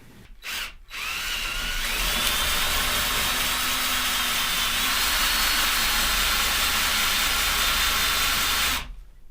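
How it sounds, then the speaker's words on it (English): An electric drill bores holes into a pool table while fitting rubber drop pockets, whirring loud and steady for most of the clip after a brief stop-start at the beginning, then cutting off near the end. "So what I've got to do is drill down to that line."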